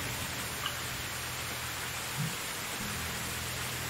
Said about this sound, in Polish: Cały dzień chyba będzie padał.